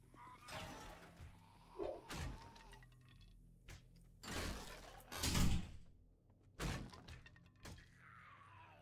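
Inside an asylum in the video game 7 Days to Die, a door bangs and thuds in a series of loud, irregular knocks and slams spread across several seconds, with creaks and scrapes between them and no talking.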